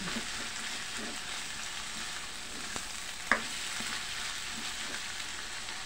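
Lechon pork being lightly fried in a pan, a steady soft sizzle and crackle at moderate distance, with one brief sharp clink midway.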